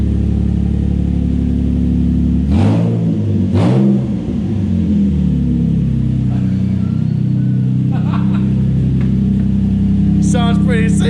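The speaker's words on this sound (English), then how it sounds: "Give a little rev." A Nissan 350Z with a newly installed loud aftermarket exhaust idles with a deep rumble, then gives two sharp revs that rise and fall before settling back to idle, close and loud.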